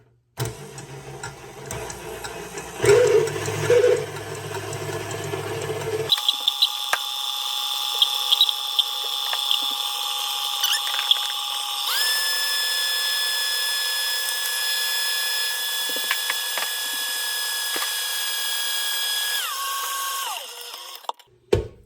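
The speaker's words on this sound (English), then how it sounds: "I'm gonna start whipping this up." An electric mixer whips French silk chocolate pie filling in a kitchen, preceded by brief handling noises, then a steady high motor whine that shifts speed partway through and cuts off near the end.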